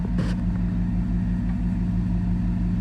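Chevrolet Tahoe engine idling after being started, a steady low pulsing rumble with a brief higher burst near the start.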